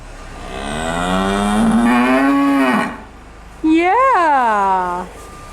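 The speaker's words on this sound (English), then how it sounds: "Can you say moo for us?" A cow on a farm moos twice up close: a long, loud, drawn-out low call, then after a short pause a shorter moo that rises and falls in pitch.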